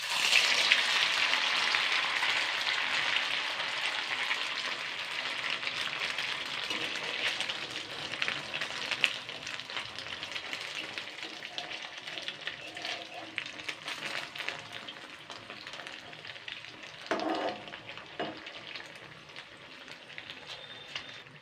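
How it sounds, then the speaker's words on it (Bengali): Pitha frying in hot oil, a steady, close sizzle and crackle that carries on throughout, briefly interrupted by a few stirring clatters. "সেমভাবে কিন্তু আমি আরও একটা ভেজে নেব।"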